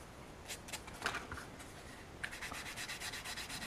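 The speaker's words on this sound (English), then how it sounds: "sand away. The 320 is mostly polishing this up." A resin figure part is sanded with 320-grit sandpaper to polish away a mold line: quiet, close rubbing and scratching, sporadic at first, then settling into steady rhythmic back-and-forth strokes.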